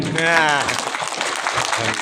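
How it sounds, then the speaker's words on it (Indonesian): Audience applause at a gathering in Indonesia, a dense wash of many hands clapping at moderate loudness, with a voice briefly calling out over it near the start. "Kemudian tepuk tangan dulu."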